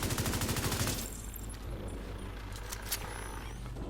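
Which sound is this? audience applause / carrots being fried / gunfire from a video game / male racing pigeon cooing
gunfire from a video game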